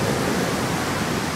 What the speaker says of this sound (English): Hey, it's the ocean.